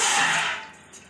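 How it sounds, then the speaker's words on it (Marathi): A cup of water splashes briefly into a pan for making tea, a short rushing pour that fades quickly. "एक कप पाणी टाकून घेऊया"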